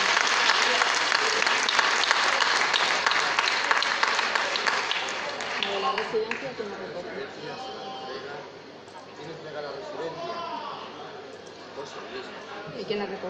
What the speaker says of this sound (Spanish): Un fuerte aplauso por su labor